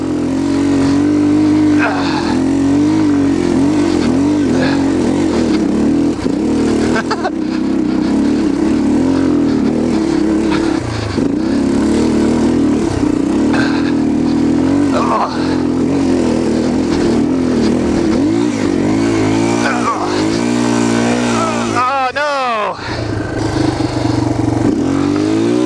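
A Yamaha TT-R230 dirt bike engine runs loud and close, droning continuously with repeated revs and throttle swells, including a sharp dip and rise near the end. A person talks over the engine noise.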